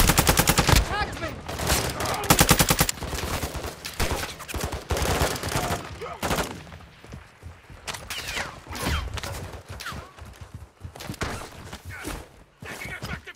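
Gunfire rattles through Call of Duty: Modern Warfare II DMZ in loud, repeated bursts of automatic and single shots. The exchange stays dense and close throughout, with brief lulls between volleys.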